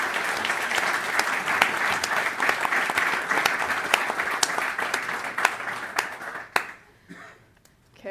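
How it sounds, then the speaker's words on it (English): Audience applauds a panel at a policy conference on European industrial decarbonisation, dense steady clapping filling the room for about six seconds before thinning out and dying away into near quiet. "A round of applause for our panel."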